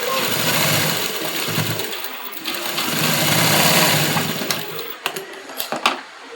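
A sewing machine stitches a kurti with a rapid, buzzing motor run that rises and falls in bursts, followed near the end by sharp clicks and knocks of handling, close by.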